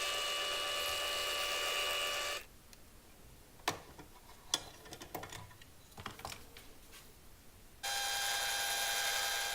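A drill press bores through wood with a sustained high whine at the start and again at the end, separated by a quieter gap of scattered clicks and taps.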